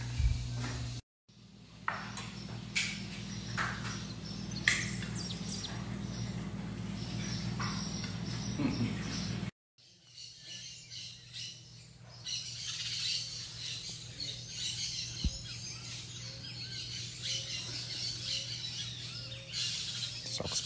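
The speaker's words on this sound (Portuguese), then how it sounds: "Só com os passarinhos aqui dando aquela cesteada depois da boia." Small birds chirp and squawk outdoors after a meal, with scattered faint calls over a steady low hum and some background noise.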